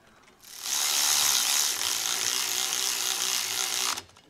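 Electric ratchet driving bolts on a disc brake kit for a 2020 Keystone Montana fifth wheel RV: one loud, close, continuous whirring run of about three and a half seconds that stops abruptly.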